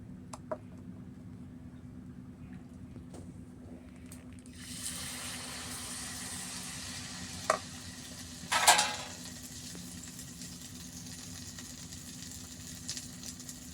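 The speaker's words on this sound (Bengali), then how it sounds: "তেলটা তেতে গেছে এবার আমি একটা একটা করে ভেজে নেবো" A quiet kitchen with a few faint knocks gives way to a steady sizzle as a bottle gourd and semolina pitha cake goes into hot oil, with one sharp pop midway and a soft continuous fry after.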